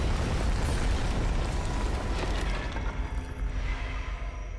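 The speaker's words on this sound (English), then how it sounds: "If I'd been a little closer to the explosion, I'd be resting in pieces now." A loud explosion in the Mystery Case Files 13: Ravenhearst Unlocked video game bursts out as a broad, roaring blast, then slowly rumbles and fades over several seconds.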